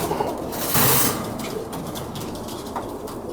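Pigeons coo steadily and close by in a loft where the birds are raised, a soft repeated throaty call running throughout with a brief louder burst of rustling or wing flutter near the start.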